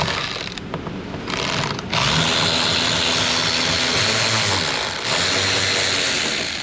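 A 7mm socket wrench works a bolt loose on a car door during power window motor and regulator repair, giving close, steady mechanical ratcheting and clicking that runs through the clip with no talk.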